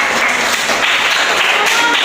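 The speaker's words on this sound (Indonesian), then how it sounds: "Beri tepuk tangan untuk kelompok 4." A burst of applause from a second-grade class, dense overlapping clapping that stays steady and fairly loud throughout.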